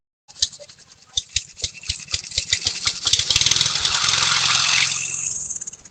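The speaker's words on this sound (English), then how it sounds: "today we're running the diesel lawnmower for a little experiment" A diesel lawnmower engine cranks with a string of sharp, uneven knocks, then catches and runs in a rough, steady roar for a couple of seconds before winding down, close by, with no talking.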